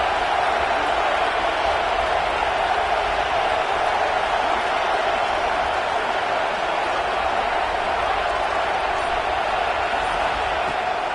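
A college football stadium crowd roars in a dense, steady wash of noise as the visitors are pinned deep in their own end, loud and unbroken throughout.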